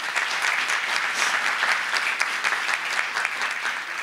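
Applause at an annual Supreme Court luncheon honoring law school award winners, a steady, dense round of clapping from a seated audience that carries on evenly without any talk.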